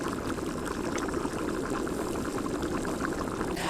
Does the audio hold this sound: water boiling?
yes